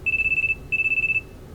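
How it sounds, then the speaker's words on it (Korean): A mobile phone rings with two identical bursts of rapid electronic trilling tones, clear and close in a quiet room. "휴대폰이 시끄럽게 울리면 반짝반짝 빛을 내고 있다."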